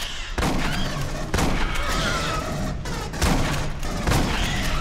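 Rapid bursts of gunfire crack repeatedly in loud clusters in the video game Aliens: Colonial Marines, with a synthetic, game-like quality and no talking.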